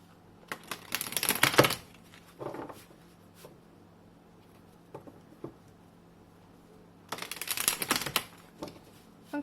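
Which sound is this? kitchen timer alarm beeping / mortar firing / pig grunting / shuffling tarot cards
shuffling tarot cards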